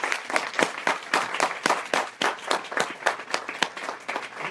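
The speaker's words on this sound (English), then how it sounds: "Give yourselves a round of applause as you stand up." An audience at a talk on social and economic issues applauds, with a fairly even run of distinct, close claps and no one speaking for a few seconds.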